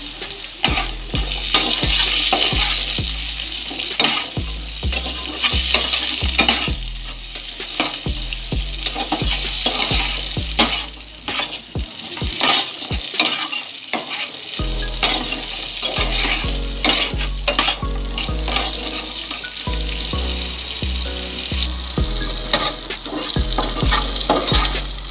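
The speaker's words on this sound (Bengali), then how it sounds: "পেঁয়াজটা ভালো করে ভেজে নিয়েছি, আমি বাদামটাও ভাজা হয়ে গেছে।" Raw peanuts and onion frying in a pan with a steady loud sizzle, broken by repeated scraping stir strokes and a brief pause near the middle, no voices.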